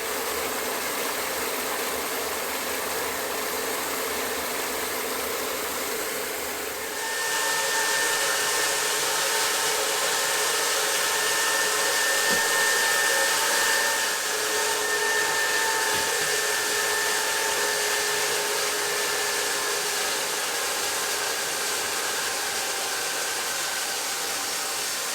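Steady whirring hum of a 1.5 kW hydroelectric turbine running in North Wales, continuous and even, stepping up to a louder, brighter whine partway through with a faint tonal whistle on top.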